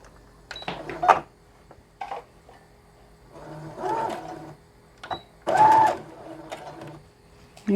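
A sewing machine runs in short bursts, stitching a doll backpack with a 1/4 inch straight stitch, with quiet pauses between the runs.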